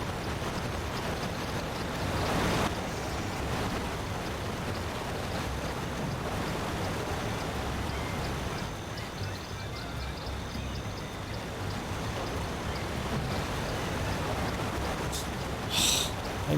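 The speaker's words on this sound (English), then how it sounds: "I really wish the waterfalls weren't so loud." A roaring waterfall in the SpongeBob SquarePants: Battle for Bikini Bottom video game gives a steady, loud, broadband rush of water that continues without a break, with no talk over it.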